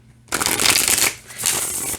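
A deck of Apprentice Tarot cards is riffle-shuffled twice in quick succession, with crisp, close fluttering bursts of the cards and no talking.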